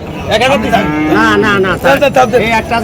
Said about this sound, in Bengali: পিছন দিয়ে জোর করে গরু নিয়ে যাচ্ছে